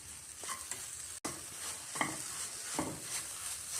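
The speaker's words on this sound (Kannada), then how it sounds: "ಇವಾಗ ಮಿಕ್ಸ್ ಮಾಡ್ಕೊಳ್ಳೋಣ ಬಾಳೆಹಣ್ಣು ಜೊತೆ" Mashed banana mixed with fried coconut and sugar is stirred in a pan, with repeated scraping strokes of a spoon over a soft sizzle.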